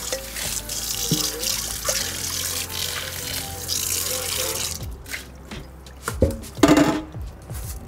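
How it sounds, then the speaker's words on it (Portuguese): Rice getting a final rinse in a bowl of water in a home kitchen, with continuous swishing and trickling at first, then a quieter stretch broken by a few close splashes and drips. "Agora eu vou lavar a última vez, você vê que a água já não está mais tão turva."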